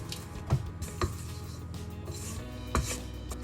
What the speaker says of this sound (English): just scrape down the sides of your bowl just to make sure it's all properly mixed together